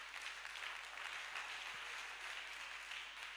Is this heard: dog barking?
no